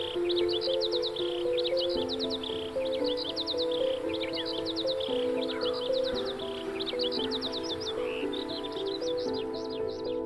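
Small birds chirp and tweet in repeated bright bursts over a steady musical background beside a river where a girl washes clothes, the calls continuing throughout at moderate loudness.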